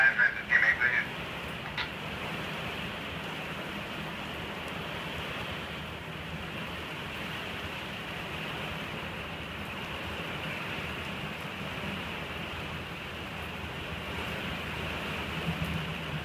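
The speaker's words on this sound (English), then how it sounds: "so continuously it's still raining out here." Steady outdoor rain hisses continuously as a broad, even wash of noise, with a brief clatter at the start and no talking.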